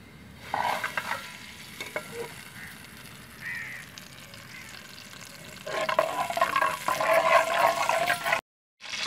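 Ghee goes into a cooking pot set on a stove, giving a continuous crackling sizzle with scattered clinks and stirring scrapes that turns louder and busier partway through, then drops off briefly at the end.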